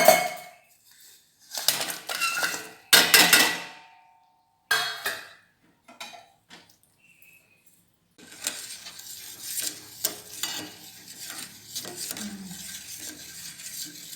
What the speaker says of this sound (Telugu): ఒక గిన్నె పెట్టి దాంట్లో బెల్లం కరిగిద్దాం.